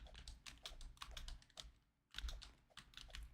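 Fast typing on a computer keyboard while chatting in Discord, dense bursts of clicky keystrokes close by, a brief pause near the middle, then rapid typing resumes.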